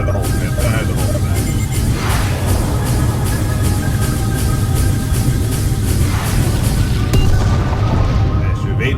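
Missiles and weapons fire in the Freespace 2 space combat game, a dense run of repeated rapid bursts over a constant low engine rumble, loud and continuous.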